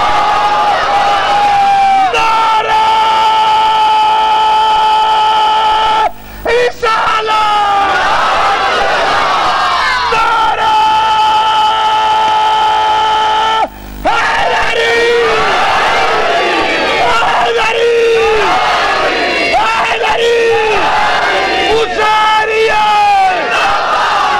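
A majlis crowd shouts the Takbir slogan back in loud, massed unison, the call-and-response repeating in waves with short breaks between rounds, filling the hall.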